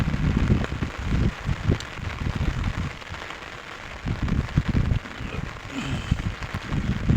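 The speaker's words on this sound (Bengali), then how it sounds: "প্রচুর পরিমাণ বৃষ্টি হইতেছে" Heavy rain falls steadily in Salalah, Oman, a dense broadband wash of drumming drops, close and continuous without talk.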